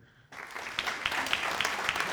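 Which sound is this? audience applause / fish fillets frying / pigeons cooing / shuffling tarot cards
audience applause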